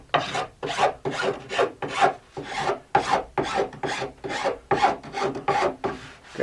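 A coarse file is drawn over the sidewall of a sandwich-construction alpine ski, giving a loud, rhythmic rasping of about a dozen even strokes close up, with no voices.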